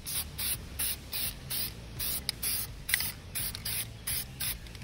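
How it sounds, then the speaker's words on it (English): Short hissing bursts of an aerosol spray can repeat in a quick, even rhythm, about a dozen close puffs, as paint goes onto the top of a residential HVAC compressor. "Now I'm going to paint the top of this compressor."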